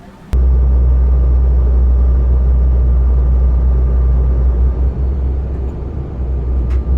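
Steady deep cabin rumble of a British Airways airliner in flight between Edinburgh and London City, a loud continuous low drone with a faint high whine, starting abruptly after a brief quiet moment.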